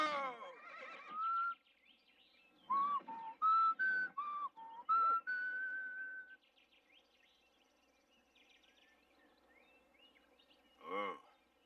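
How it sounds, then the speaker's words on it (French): A person whistles to calm a horse, sending out a string of short, clear notes followed by a longer held tone, while the horse whinnies nearby at the start and again near the end. "Oh, Cassie, il va falloir que tu m'apprennes à siffler."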